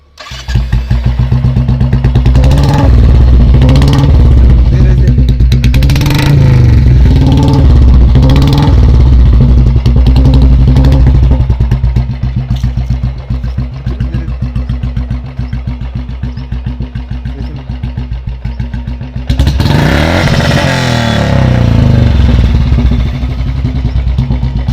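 A Royal Enfield Classic 350 motorcycle exhaust runs loud and close, revving up and down in repeated bursts over a steady throbbing idle, with a sharp rev near the end.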